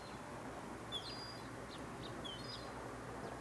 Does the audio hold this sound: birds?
yes